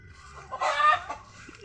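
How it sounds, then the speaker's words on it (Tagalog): Hens cluck and cackle in a short, loud burst after one lays an egg, then the calls taper off into quieter background noise. "ingay ng ano mga manok guys may nangitlog kasi"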